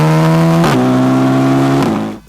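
An Audi S3 sedan engine revving high, with two sharp gear shifts that each drop the pitch before it climbs again. The engine is loud and close, then cuts off abruptly at the end.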